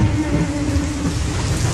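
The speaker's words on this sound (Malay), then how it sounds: "Di luar rumah, petir sabung menyabung." Heavy rain pouring outside a house during a thunderstorm, a dense, loud, steady roar with a low rumbling undertone and no voices.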